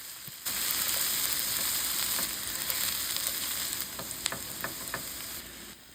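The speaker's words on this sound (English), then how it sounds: "make sure I give that a good stir" Ground bison sizzling steadily in a hot pan as it is stirred, a dense close frying hiss with scattered scraping clicks and pops from the spoon, loud and continuous without any talking.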